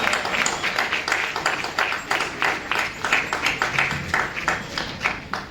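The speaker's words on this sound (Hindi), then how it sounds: "जोरदार तालियों से स्वागत" Applause at an awards ceremony honouring top-scoring students, a crowd clapping in a steady rhythmic beat that is loud and sustained throughout.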